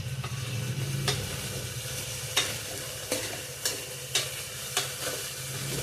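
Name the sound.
sprouted horse gram frying in oil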